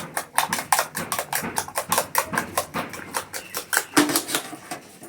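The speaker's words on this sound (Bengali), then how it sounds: "ডিমটা খুব ভালো করে ফেটাতে হবে।" Eggs beaten hard with salt for an eggplant omelette, a fast, steady run of light clicking taps as the utensil strikes the bowl, close and fairly even throughout.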